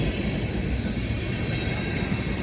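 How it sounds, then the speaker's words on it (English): A Norfolk Southern freight manifest train climbing a mountain grade, its steady rumbling roar continuous and fairly loud throughout with no voices. "Usually I don't see trains going up the mountain this fast though."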